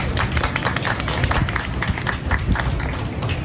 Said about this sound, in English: Let's give Lance a round of applause.